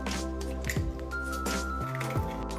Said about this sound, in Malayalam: നമുക്കൊരു മുട്ട എന്നൊരു ബൗളിലേക്ക് പൊട്ടിച്ചൊഴിച്ചു കൊടുക്കാം.